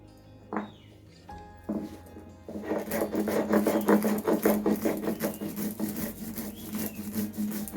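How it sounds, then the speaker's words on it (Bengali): An electric grinder blends mango pickle ingredients, green chillies and salt with very little water. After a few short clicks and starts, a loud, steady whirring grind with a rough, churning texture follows, close by and alone. "এবার এই সমস্ত উপকরণ যতটা সম্ভব কম জল ব্যবহার করে বেটে নিতে হবে"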